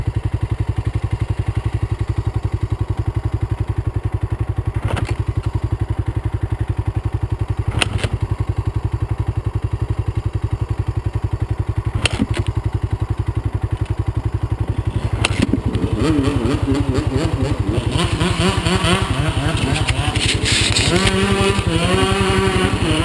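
A Honda CR250 two-stroke dirt bike runs loud and close, a steady buzzing engine note with a few sharp clacks, then rising into uneven revving bursts near the end.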